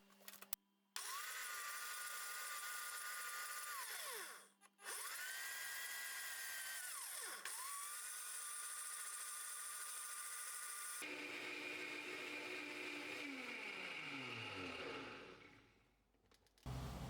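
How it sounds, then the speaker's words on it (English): Blender whirring through bananas and dried apple flour to make a creamy raw vegan cake filling; loud, close motor runs in several long bursts that spin up, hold a steady whine and wind down, with no talk. "Place the bananas and dried apple flour in the blender jar and blend these two ingredients into a creamy cake filling."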